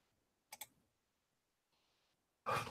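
A computer mouse gives a quick double click, followed later by faint faraway noise and then a louder burst, in otherwise quiet surroundings.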